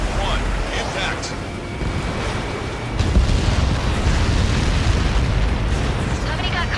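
A Helios projectile strike explodes in the Ace Combat 7 video game, giving a loud, continuous booming roar that swells heavier partway through and keeps rumbling without letting up.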